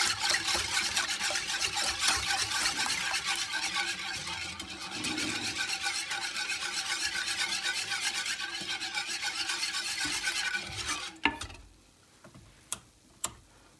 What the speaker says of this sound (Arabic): هسه شغلت الطباخ، اظل اخلط بيه الى ان يسخن